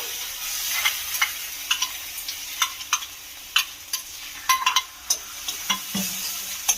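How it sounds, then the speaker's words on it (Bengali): Spice paste sizzling in a pan under repeated sharp scrapes and taps of a spoon stirring, close up, with no talking. "একটুখানি জাস্ট ভেজে নেব কাঁচা গন্ধটা যাওয়া পর্যন্ত"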